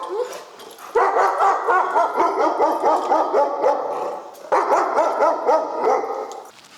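A reactive dog barks loudly and rapidly in sustained bursts, with yips and whimpers mixed in, pausing briefly before starting again, close by.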